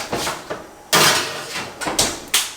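A series of sharp clunks and clatters, like a small oven door being opened and shut, with quieter rattles in between, close by.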